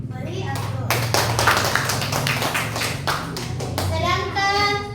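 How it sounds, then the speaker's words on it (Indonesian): A classroom group of children and adults breaks into brisk applause, many hands clapping at once for a few seconds, with voices calling out over the claps before it fades. "Beri aplaus."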